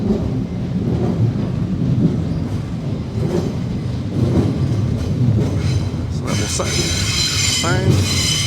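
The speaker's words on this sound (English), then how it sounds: "the trains from London Bridge pass overhead here" A loud train rumbles past close by, overhead on a brick railway viaduct in London, with heavy continuous roar and a faint metallic squeal near the end.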